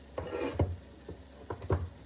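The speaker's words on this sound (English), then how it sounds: "remove this meat from this pot" Cooked ground beef scooped from a pot with a utensil, a few soft scrapes and clinks against the metal in an uneven rhythm, quiet and close with a faint sizzle underneath.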